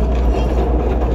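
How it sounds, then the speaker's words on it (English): CTA Purple Line elevated train running on its tracks toward Linden, a steady loud low rumble of wheels and car body heard from on board, with no talking. "This is a purple line train to Linden."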